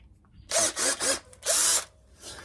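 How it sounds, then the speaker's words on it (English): A countersink bit in a power drill cuts into wood while building a fretless cigar box guitar, in three quick close bursts followed by one longer whir, loud with no speech. "And now I'm going to countersink."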